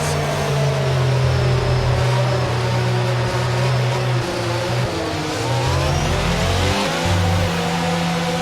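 Formula 1 race cars idle and rev on the starting grid in the F1 22 video game at the French Grand Prix, a loud, dense, continuous engine roar with pitch rising and falling and no talk over it.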